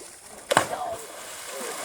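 A person jumps from a tree into the Perdido River: a single sharp splash strikes midway, followed by a brief slosh and lapping that fades out over faint outdoor background.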